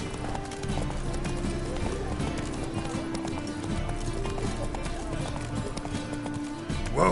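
Hooves pound steadily as a horse gallops in the video game The Witcher 3: Wild Hunt, a continuous rhythmic drumming layered with dense game audio while a voice talks.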